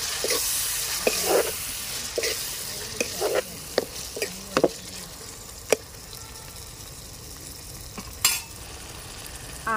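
Tomatoes sizzling in a frying pan for tomato rice, with a soft continuous fry under repeated sharp clicks and scrapes of a spoon stirring against the pan.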